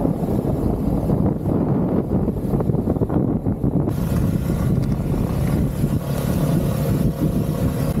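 A motorbike rides through dense fog, its engine drone buried under heavy, gusting wind buffeting the microphone, loud and constant throughout.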